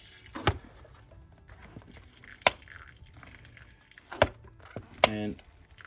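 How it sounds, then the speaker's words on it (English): Lavender cuttings in pots are watered by hand, giving a few separate splashes and drips of water onto soil, spaced irregularly over several seconds against a quiet background. "I'm gonna water them down"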